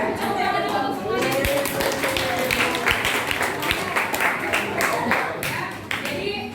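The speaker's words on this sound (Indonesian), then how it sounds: "Tepuk tangan dulu untuk semuanya." A school class clapping hands together in a room, a lively uneven burst of many close claps with scattered voices underneath, lasting several seconds before tapering off.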